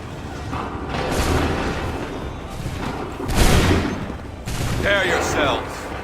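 Musket volleys in Assassin's Creed 3 Remastered, dense crackling gunfire and booms rolling through a battlefield din, swelling in a few loud surges, with shouting voices mixed in.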